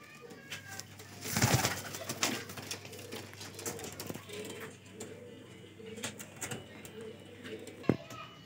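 A highflyer breeder pigeon with red eyes coos softly while being handled in Lahore, with nearby rustling, a louder burst of movement early on and a sharp knock near the end; someone talks at times.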